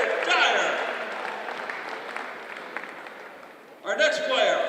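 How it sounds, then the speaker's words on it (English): Scattered applause at a boys' basketball tournament awards ceremony in a gym, moderate and fading over several seconds before an announcer's amplified voice cuts in near the end. "a round of applause for Jared Dyer"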